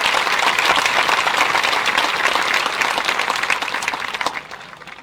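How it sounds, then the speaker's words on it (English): A large audience applauds a graduating class at a 2018 commencement ceremony, dense sustained clapping that holds steady and then tapers off toward the end. "Big round of applause for our class."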